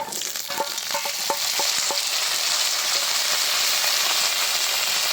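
Cut cauliflower dropped into hot oil with fried garlic and black cumin, giving a few quick clattering thuds at the start that settle into a steady, loud, close hiss of frying.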